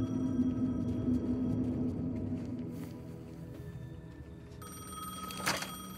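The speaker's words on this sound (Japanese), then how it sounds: "公衆電話が鳴っていた" Public payphone ringing in the video game Alan Wake 2, a bell tone repeating over a low ambient rumble and brightening near the end.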